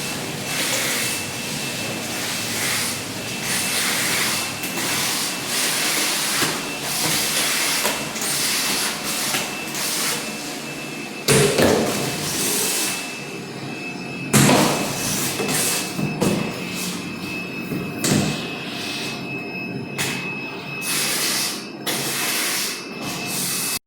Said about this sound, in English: I think the machine sounds like it's kind of running out of juice too